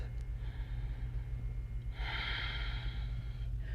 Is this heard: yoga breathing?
yes